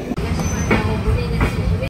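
Sealdah–Jalpaiguri Humsafar Express runs along the track near Aluabari Road Junction, giving a continuous close rumble with faint rhythmic wheel clatter and a thin high squeal over the short stretch.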